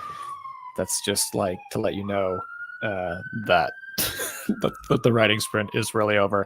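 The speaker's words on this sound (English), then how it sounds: "I don't know if you can hear the sirens in the background" Police sirens wail in the background with a long rising and falling tone that runs under continuous close speech throughout.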